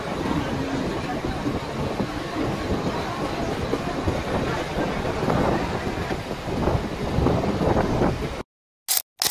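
A local train pulling out of Virar station on the Mumbai suburban line, with a steady loud rumble and clatter of the carriages throughout, then an abrupt cut to near silence with brief bursts at the end.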